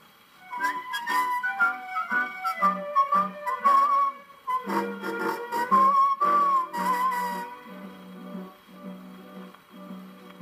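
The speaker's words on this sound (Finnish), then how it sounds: "hän viheltelee kulkeissaan" A man whistles a wandering melody, carried by a traveller on a late evening road, heard over a full band accompaniment of bass and rhythm that keeps going after the whistled phrases fade out near the end.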